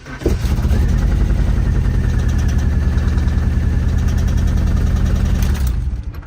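A Nissan 240SX engine with its old spark plugs reinstalled cranks, catches and runs steadily at a loud, rough idle for about six seconds, then cuts out near the end. No voices are heard over it.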